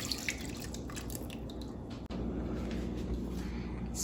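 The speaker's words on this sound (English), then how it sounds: "the buttermilk. We're gonna pour it all in." Buttermilk poured into chocolate cake batter in a kitchen, a steady close liquid trickle with soft drips and splashes, continuous apart from one brief break midway.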